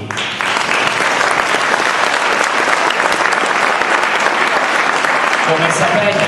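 An audience applauds the amateur cast of a Sicilian-language comedy, with loud, dense, sustained clapping from a full hall that carries on steadily before easing slightly at the end.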